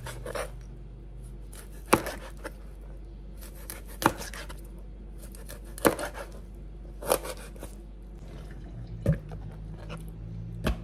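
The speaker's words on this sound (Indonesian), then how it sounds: "Ikan ini kita potong." Knife chopping fish on a cutting board, five sharp evenly spaced chops about two seconds apart, close and clear over quiet background.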